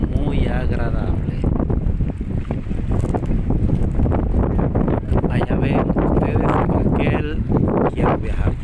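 Wind blows steadily across the microphone on the sunny seafront at Portofino, a constant low rumbling buffet with gusty swells throughout and no clear talk over it.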